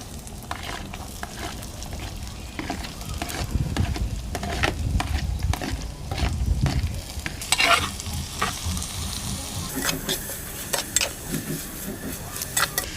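Small shallots frying in a pan with crackling sizzle and repeated stirring scrapes, moderately loud and close, with a brief crisp burst of sizzling partway through.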